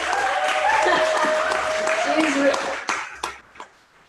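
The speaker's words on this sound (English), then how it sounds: "can we get a round of applause for Lyra, actually?" Audience at a political organizing event applauding, a dense burst of clapping that fades into a few scattered claps, with a voice speaking over the start.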